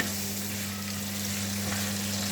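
Beef liver fries in a pan with onions, giving a dense, steady sizzling hiss over a low constant hum, close and even with no distinct stirring strokes.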